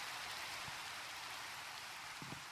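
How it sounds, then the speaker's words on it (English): Steady rain falls in Minecraft's Sky Factory 3 modpack, a constant even hiss with a couple of faint low bumps, no voices. "oh my god, thank you, rain"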